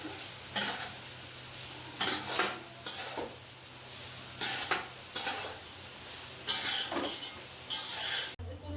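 Cooked rice stirred into ghee and whole spices in a metal pot gives repeated scraping, clattering strokes at a regular pace over a faint background hum.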